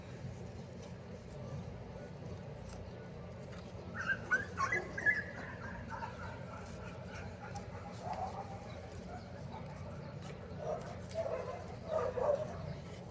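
Dogs bark and whimper at moderate distance in a rural yard with dark soil, a few short bursts around the middle and again near the end over steady low background hum.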